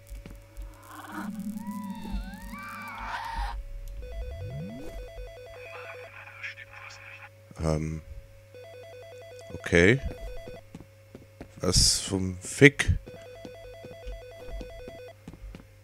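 A telephone rings in the F.E.A.R. video game, with bursts of electronic game sounds, eerie tones and brief speech over a steady low hum; the ringing arrives in short repeated bursts toward the end.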